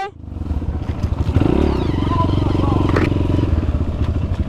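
A Honda CRF 230 dirt bike engine rumbles and revs nearby on a trail, loud and continuous, with some clattering underneath.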